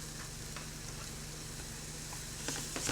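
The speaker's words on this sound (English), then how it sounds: "but hopefully the sizzling of the skillet will" Food sizzling in a skillet on a stovetop, a constant dense close hiss with a few brief clicks near the end and a low steady hum beneath, no talk.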